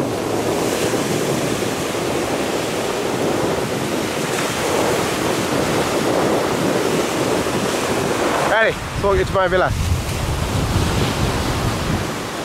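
Ocean waves and surf washing onto a resort beach in the Maldives, a steady close roar with heavy wind buffeting the microphone and a person speaking briefly near the end.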